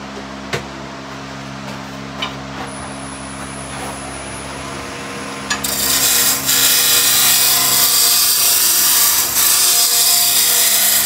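Lathe roughing down a wooden raised bowl blank, a steady machine hum with light scraping, then a loud continuous tearing rasp as the gouge bites into the wood.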